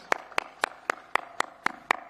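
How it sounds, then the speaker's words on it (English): Steady hand claps from a small group at a WRC Safari Rally 2024 flag-off event at KICC, about eight evenly spaced sharp claps in two seconds, close and clear with no talk over them. "A big applause for this."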